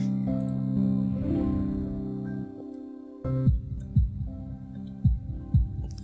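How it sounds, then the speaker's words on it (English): A heartbeat sound effect in the visual novel Katawa Shoujo thumps over a sustained musical hum, with low, evenly spaced double beats growing prominent in the second half. "Okay, heartbeat."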